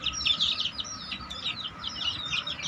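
Chicks in a poultry chick section peep continuously in a dense, high-pitched chorus, many overlapping calls close by with no talking.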